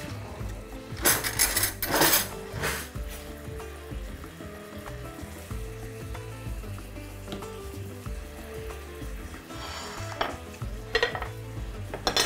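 Beef liver and heart fry in butter in a pan with a steady low sizzle, broken by stirring scrapes and the clink of utensils against cookware, with sharper clatters now and then. Nobody speaks.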